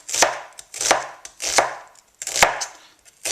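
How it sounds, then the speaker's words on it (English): A knife chops through red onion on a cutting board in four evenly spaced, crisp strokes, each a sharp thud with a brief crunchy tail, close and clear with no voices. "I'll make some cuts this way first, and then I'll cut down"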